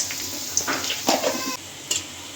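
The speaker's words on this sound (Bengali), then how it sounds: "পেঁয়াজটা ভাজা হয়ে গেছে" Onion and green chili frying in soybean oil, a moderate sizzle with bursts of spattering and a few metallic spoon clinks against the pan, close and without talk.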